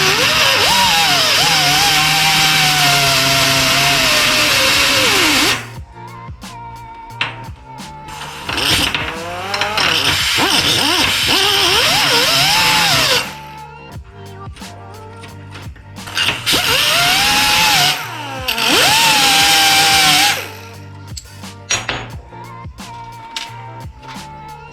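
Angle grinder cutting through a metal tip, loud and harsh in two long bursts with quieter clanking and handling sounds between them.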